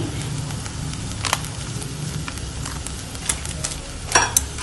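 A bread and potato patty mixture is stirred and sautéed in a pan, with a steady sizzle under repeated spatula scrapes and taps on the pan, louder toward the end.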